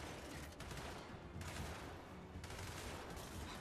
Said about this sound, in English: I'm getting shot up.